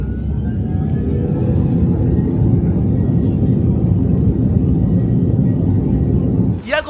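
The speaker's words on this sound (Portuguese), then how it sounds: "o avião acelerando para decolar" A jet airliner accelerates down the runway for takeoff on a flight to Fortaleza, a loud sustained cabin roar with a rising engine whine, a voice briefly audible near the end.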